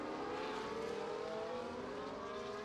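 A pack of race cars in a racing video game drones steadily, engines blending into a continuous layered roar that holds an even level throughout with no talking.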